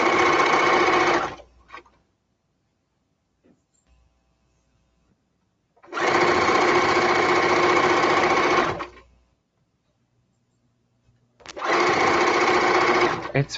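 A serger stitches 3/8 inch elastic in three loud, steady, rapid-fire bursts up close, separated by quiet pauses in which a person speaks briefly.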